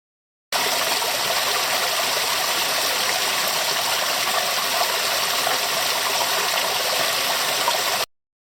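A waterfall rushes in a steady, dense broadband hiss with no break from start to finish, loud and close, with no voices.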